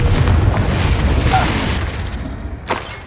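A Confringo blasting spell goes off in Hogwarts Legacy, a booming burst followed by a fading rumble and a sharp second crack near the end.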